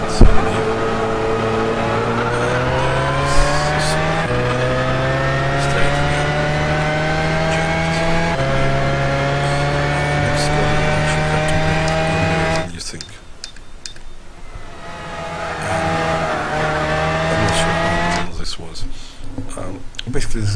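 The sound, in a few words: McLaren F1 GTR race car cornering at Brands Hatch, video game Gran Turismo 6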